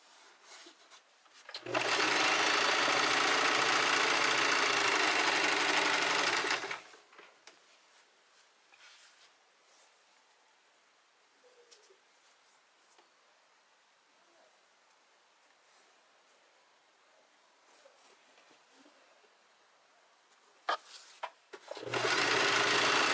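A sewing machine runs fast in one loud steady burst of about five seconds. A quiet stretch with faint handling follows, and a short second run starts at the end.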